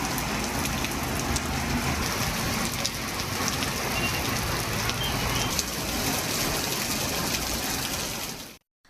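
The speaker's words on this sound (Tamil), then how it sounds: "பெய்த கனமழையால் சாலையில் மழைநீர் பெருக்கெடுத்து ஓடியது" Heavy rain pours down in a town district in Tamil Nadu, a dense, loud, steady hiss of drops hitting the road and surfaces, unbroken for several seconds before cutting off abruptly.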